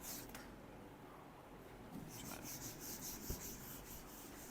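Chalk or marker being rubbed off a classroom board, a steady soft scraping wipe that runs continuously and brightens partway through with quicker strokes, faint and close with no talking.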